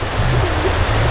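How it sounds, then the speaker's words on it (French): A trout river flowing, a steady close rush of running water heard briefly and alone. "Oh la belle rivière à truites."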